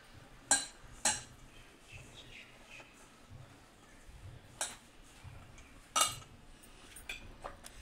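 A spoon clinking against a bowl while mixing coriander powder and cumin powder, a few sharp metallic taps spaced irregularly over quiet background, close and moderately loud.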